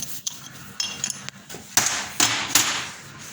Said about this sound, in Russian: Откручиваем фиксатор.